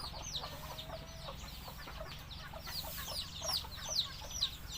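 Native-breed Thai fighting cocks cluck and chatter in a farmyard, a busy run of short clucks and calls over a low background hum.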